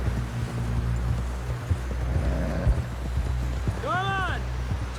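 Horse hooves clip-clopping in Red Dead Redemption 2, a soft, steady plodding under continuous game ambience, with a brief rising whistle-like tone near the end.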